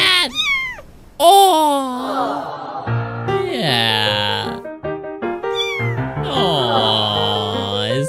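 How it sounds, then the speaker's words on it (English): A cute little kitty cat meows repeatedly in long, drawn-out, pitch-bending cries, loud and close, with a brief spoken exclamation between calls. "It's just a cute little kitty cat."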